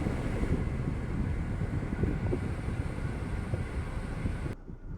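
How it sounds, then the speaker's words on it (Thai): Strong, steady rushing air from a Toyota Altis's air conditioning fan on full blast, loud and close, cutting down abruptly just before the end. "เปิดพัดลมแรงสุดนะคะ"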